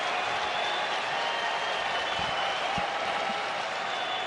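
Baseball stadium crowd at night cheering and applauding steadily throughout, a dense, continuous roar of clapping from a large audience with no break.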